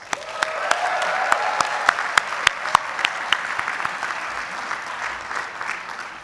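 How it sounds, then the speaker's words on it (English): A graduating business school class applauds itself at a recognition ceremony, broad steady clapping with a few sharp nearby claps standing out, gradually thinning toward the end. "Give yourselves a round of applause."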